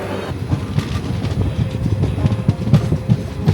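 Udhna–Mangalore express train running, heard from on board as a loud, steady rumble with rhythmic clickety-clack of wheels over rail joints.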